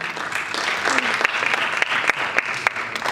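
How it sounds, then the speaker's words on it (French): Audience applause fills an award ceremony for a mobile film festival in Africa, a steady wash of clapping hands from a crowd, close and loud, with a few sharper claps and faint voices mixed in. "Vos applaudissements pour Madame l'ambassadrice"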